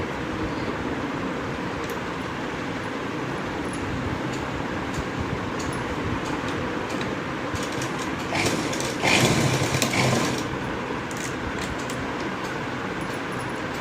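A sewing machine runs steadily while stitching a kurti sleeve seam, a continuous close mechanical whir that swells briefly louder partway through, with no talking.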